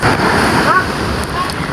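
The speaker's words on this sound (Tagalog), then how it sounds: "Ayan, laki na naman ng mga alon." Big ocean waves crashing on a beach where a fishing boat sits grounded in rough weather, a loud, wind-buffeted wash of surf close by over a short moment.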